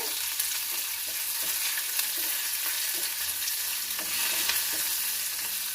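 Garlic cloves fry with dried and green chillies in a pan for mint chutney, a steady bright sizzle with occasional soft stirring scrapes close up.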